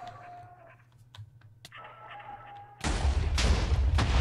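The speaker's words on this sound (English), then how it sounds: "Random explosion." Explosion in a Minecraft mob battle, a sudden loud broadband blast about two-thirds through, following quieter scattered game clicks and pops.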